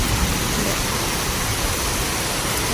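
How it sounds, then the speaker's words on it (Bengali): Heavy rain falls hard and continuously, a loud, unbroken hiss of downpour close by with no other sounds or speech. "এই দারুণ বৃষ্টিটা হচ্ছে, দেখো তোমরা।"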